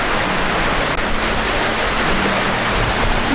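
Loud, unbroken rushing of a Faroe Islands waterfall heard up close, a constant broadband roar of churning water with no talking over it.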